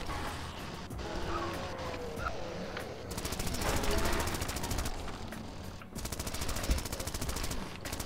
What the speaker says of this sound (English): More machine gun.